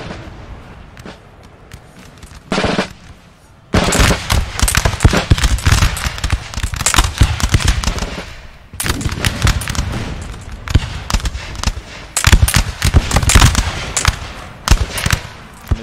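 Dense musket volleys crackle in the Napoleonic-era strategy game Napoleon Total War, with rippling waves of loud gunfire in bursts and a brief lull, a faint commentator's voice beneath.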